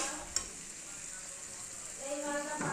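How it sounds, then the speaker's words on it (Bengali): Chicken being browned and stir-fried in a pan while it cooks down, with a steady sizzle and occasional stirring scrapes, fairly close and continuous and with no talk over it. "তো জলটা শুকানো না অবধি চিকেনটাকে কষিয়ে যাব।"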